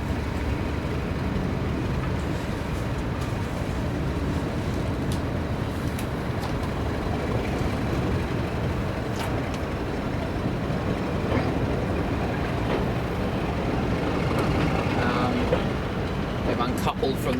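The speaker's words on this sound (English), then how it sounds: "Moving off the train now." Heritage railway train pulling away from a station in January, a steady broadband rumble of wheels and engine with faint clanks on top, close and continuous.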